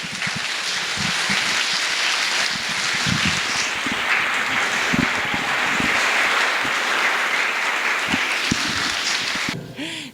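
Sustained audience applause filling a conference hall after a talk, a dense steady patter of many hands clapping close by, fading out at the very end with no talking.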